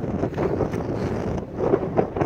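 Strong gusting wind buffets the microphone on a hilltop summit, a loud, rough rumble that rises and falls throughout the short stretch with no voices.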